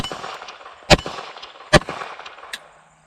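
Three sharp metallic clangs from a Glock 19 fitted with a Cross Armory Legion slide, shots ringing off a steel popper target outdoors, evenly spaced and loud against a faint background.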